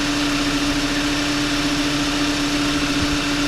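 VW Tiguan engine idling after a coolant pipe and water pump replacement, a steady close hum with a constant tonal drone and faint vibration, unchanging throughout, no voices.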